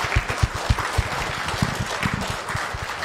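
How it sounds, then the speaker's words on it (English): A church congregation breaks into a round of applause, dense clapping from many hands that stays steady throughout, with a roomy indoor sound and no one speaking over it. "Can we give a round of applause?"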